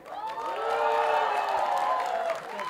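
Crowd at a Bollywood film trailer launch cheering and whooping with applause underneath, a loud swelling roar of many voices that holds steady and then starts to fade.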